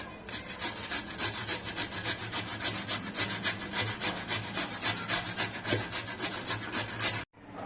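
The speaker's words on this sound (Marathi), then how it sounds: "आता हा बटाटा आपल्याला किसून घ्यायचा आहे आणि किसून घेण्यासाठी अशी बारीक किसणी घ्यायची आहे" Raw potato scrapes rhythmically across a fine kitchen grater, a close, rasping back-and-forth of steady strokes that stops abruptly near the end.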